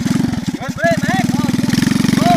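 Motorcycle engine revving near the microphone with a steady pulsing chug, loud and close over a couple of seconds, with people shouting and laughing over it.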